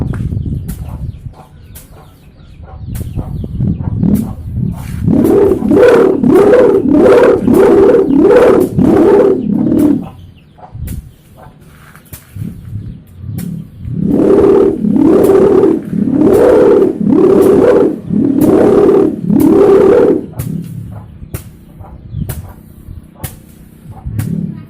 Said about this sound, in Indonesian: ini proses pembunyiannya sendirian dari gulungan pita kado sambung tali peti